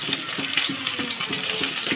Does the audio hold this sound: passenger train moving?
no